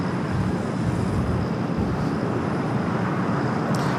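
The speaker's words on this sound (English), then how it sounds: "Next departure here on the south is United Flight 2061 headed to Denver" United A321neo jet departing LAX, a steady broad roar of engine noise filling the air with no breaks and no voices.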